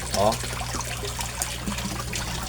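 An 18-watt air pump aerator keeps a koi pond bubbling with a steady trickling wash of water, while a short voice briefly rises near the start.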